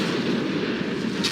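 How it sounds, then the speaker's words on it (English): Explosion in the 1984 film The Terminator, a dense broadband roar of blast and rumbling debris that fills the whole moment at steady loudness, with a brighter crackling burst near the end; no one speaks. "I just love watching explosions."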